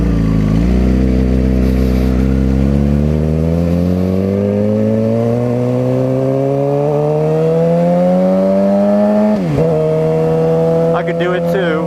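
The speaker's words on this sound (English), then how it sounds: "Just because you rev out your car doesn't make you cool." A car engine revs up loudly nearby, pitch climbing steadily over several seconds, then dips and surges again near the end.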